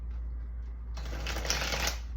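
Tarot cards being shuffled by hand: a soft, faint rustle for the first second, then a dense, steady riffling flutter that carries on to the end, with no voices.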